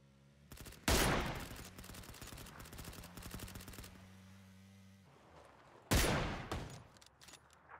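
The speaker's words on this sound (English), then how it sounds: "Got him with the shotgun." Two sharp, loud shotgun blasts in PlayerUnknown's Battlegrounds, a few seconds apart, with a quick rattling string of shots between them.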